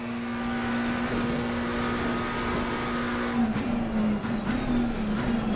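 A race car engine in Assetto Corsa at Bathurst holds a loud, steady high-pitched drone with small pitch shifts near the end, close and continuous with no talk.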